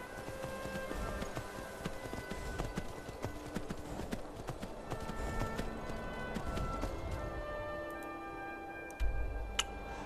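Horse hooves clip-clop in a steady, quick rhythm while riding through Skyrim, moderately close and continuous, with a soft bump near the end and faint voices in the background.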